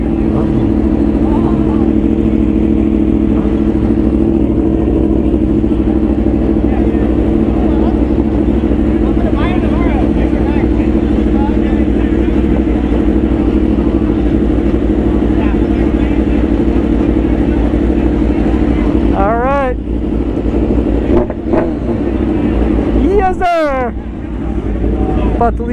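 Yamaha R1M, Kawasaki Ninja H2 and BMW S1000RR sport bikes with full exhaust idle and rumble loudly at a bike night, with sharp revs near the end and people talking over the engines.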